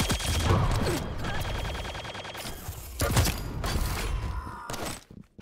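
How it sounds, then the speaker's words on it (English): Shotgun blasts in an Estoty Pro Cup arena-shooter match, with a few sharp booming shots amid busy metallic clatter and a bright steady tone, loud at first and thinning toward the end. "another frag with the shotgun for Cypher"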